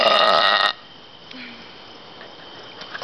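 A loud, rough burp from a woman bursts out at the start and cuts off sharply after under a second, followed by near silence with only faint background hiss.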